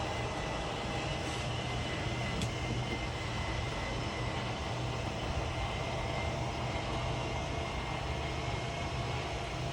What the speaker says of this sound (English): We're going to run the slide room out to give us a little more room.